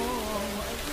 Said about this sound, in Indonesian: Dalam hujan lebat seperti ini,